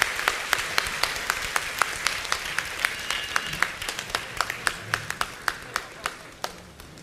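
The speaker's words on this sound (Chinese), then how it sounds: "请大家掌声恭请师尊师母" Steady applause from an audience at a religious ceremony, with many hands clapping in a dense even patter and sharper individual claps standing out, slowly fading toward the end.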